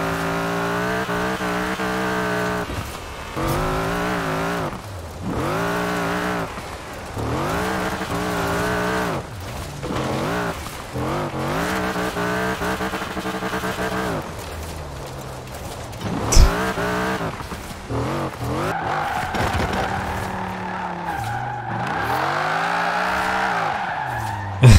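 Jeep CJ5 with a 7-litre Viper V8 of over 1300 hp roars steadily in Forza Horizon 4, revving in repeated rising sweeps with loud tire squeal while it drifts, and a sharp thud partway through.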